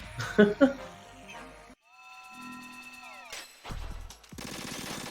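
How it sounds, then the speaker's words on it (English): Gunfire in Metal Gear Solid 2 VR Missions, played on PC: a short burst of sharp, rapid shots at the start, then electronic game tones and effects, with more bursty noise toward the end. "I'm just going to spam bullets."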